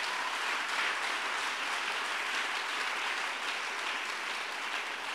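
A church congregation applauds in a steady, dense wash of clapping that holds evenly throughout, moderately loud and without pauses or voices standing out.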